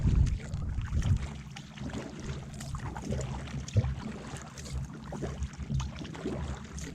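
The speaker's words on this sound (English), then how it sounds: "And we'll be paddling up here for a little bit." A kayak is paddled along a Florida river, with soft rhythmic water swishes and dripping strokes close by over light wind rumble on the microphone, no talking.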